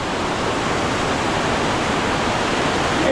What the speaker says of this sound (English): Alright, here's the beautiful river.